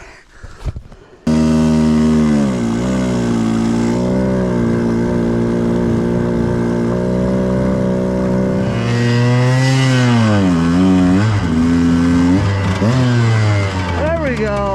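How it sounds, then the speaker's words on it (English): A 125 dirt bike towing a 300 dirt bike in snow revs hard after a brief shout, its engine droning steadily and then swooping up and down in loud, close bursts throughout. "the mighty 125 is now going to tow the 300"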